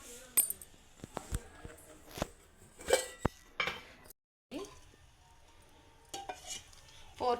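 A metal pan is set down and handled on a home stovetop before cooking chicken curry, giving a series of sharp clanks and clinks with brief pauses, one short silent gap midway, and no voices.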